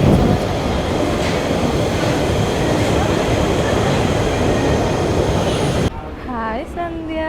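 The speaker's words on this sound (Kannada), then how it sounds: "ಟ್ರೈನ್ ನೋಡಿ ಎಷ್ಟು ವೇಗದಲ್ಲಿ ಬರುತ್ತೆ ಇಲ್ಲಿ" A fast train roars past a station platform as a loud, steady broadband rush with wheel rumble, then cuts off abruptly, leaving quieter station ambience and a few short squealing tones.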